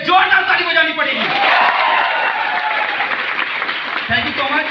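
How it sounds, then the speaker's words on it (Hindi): Loud audience applause at a motivational success-story talk in India, a strong burst of clapping with some cheering and voices mixed in, easing toward the end. "इस नई दोस्ती के लिए जोरदार ताली बजानी पड़ेगी"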